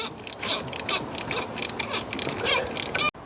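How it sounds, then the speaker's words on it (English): A ratchet clicks and creaks as a spark plug is worked loose from an Audi TT engine with a misfire, with close, irregular mechanical grinding that stops abruptly near the end. "Out comes the spark plug."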